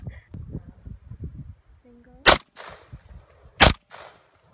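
Full-auto gun fired at an outdoor range in two sharp, loud short bursts about a second apart, each followed by a brief echoing tail, with people talking quietly in between.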